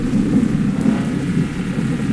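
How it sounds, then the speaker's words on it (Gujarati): Steady video game rain roars in a dense, continuous wash with a low rumble of thunder underneath blending into the downpour, with no talk. "વરસાદની ચાલુ છે અને વીજળી ફૂલ થાય છે"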